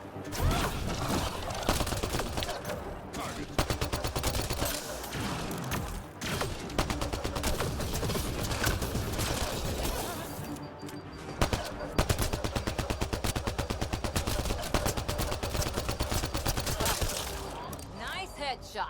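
Gunfire in the video game Mass Effect Andromeda comes as rapid automatic bursts and repeated shots, loud and nearly continuous with brief pauses between volleys, plus game effects and occasional voices.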